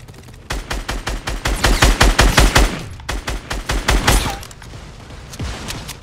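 Rapid gunfire in Fortnite, bursts of loud close shots in quick rhythmic strings, pausing briefly before another flurry of shots.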